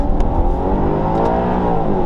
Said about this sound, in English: flooring it out of a junction in sopping wet conditions